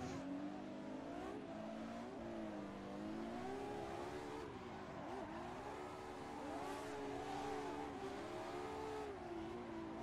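A drift car in the racing game Assetto Corsa holds a high, wavering engine drone throughout, revs rising and dipping through transitions, with tire noise mixed in at steady volume.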